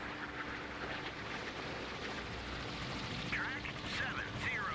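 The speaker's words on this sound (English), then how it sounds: "Helicopter's up high." A helicopter flies high overhead in the naval combat game Sea Power, heard as a steady, distant rotor rumble with brief chirping electronic tones near the end.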